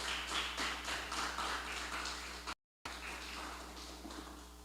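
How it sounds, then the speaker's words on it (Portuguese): A church congregation claps together at a worship service, steady rhythmic hand claps over a low background hum, with a short dropout midway before the clapping resumes. "Uma salva de palmas para Jesus."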